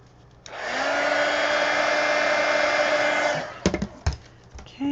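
A hair dryer blasts steadily for about three seconds over a watercolor painting, loud and close with a constant whine, then cuts off, followed by a few knocks and clicks.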